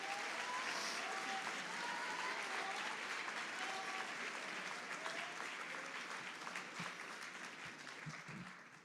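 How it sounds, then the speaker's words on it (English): Sustained, even applause from an audience at a JROTC leadership and academic bowl awards ceremony, many hands clapping at a distance in a large room, easing slightly toward the end amid a few scattered thumps. "So give yourselves a round of applause,"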